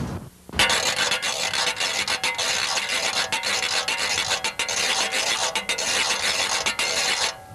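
A zydeco rub board is scraped in a fast, rasping rhythm, with dense metallic scratching strokes played loud and close for several seconds without pause.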